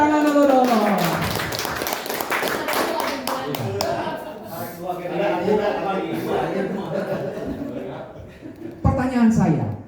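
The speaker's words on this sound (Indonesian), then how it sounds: "Tepuk tangan dulu dong." Audience members clap hands at a leadership training session, a short burst of claps mixed with laughter under a speaker's ongoing talk.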